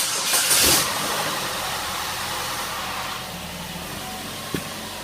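A GM Ecotec VVT 2.4 engine, freshly fitted with a new timing chain, cranks and catches with a loud burst, then settles into a steady, even idle with one brief click near the end.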